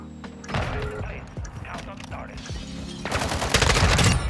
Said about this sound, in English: I hear shots, I just don't know who you're shooting at.